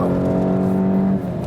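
A VW Golf GTI Performance hot hatchback engine hums steadily and rises in tone under acceleration during a lane change, a close, sustained drone that drops off abruptly near the end.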